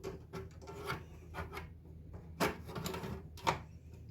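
Film is pulled from a kitchen roll dispenser, making soft rubbing, rasping pulls with a couple of sharper tearing or snapping sounds, quiet and close.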